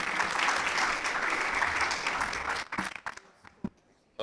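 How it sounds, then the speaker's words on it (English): Audience at a summit applauding to welcome a speaker onto the stage, a full wash of many hands clapping that thins out to a few scattered final claps and quiet. "Please give him the biggest round of applause."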